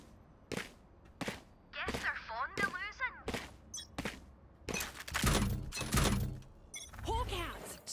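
Gunfire from the tactical shooter Valorant, played as Cypher on the map Split: a series of sharp, loud shots in quick bursts, some overlapping into clustered volleys, with voices talking between them.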